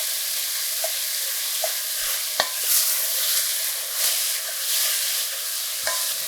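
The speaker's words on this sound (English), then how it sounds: "So this is going to take a few minutes to brown, and you just want to keep an eye on it, keep breaking it up, giving it a stir." Ground beef browns in a pot for chili, a soft continuous sizzle broken by sharp spoon clicks and scrapes as the meat is broken up and stirred at irregular intervals.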